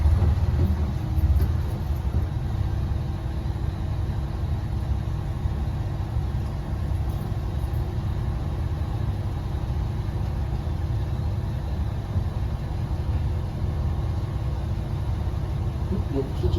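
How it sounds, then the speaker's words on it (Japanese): Kanto Railway's Kiha 2100 diesel railcar sits with its engine running, a steady low mechanical drone that holds at an even level for the whole stretch. "ここでエンジンかかってるってことは多分今全然ここ全になってます。"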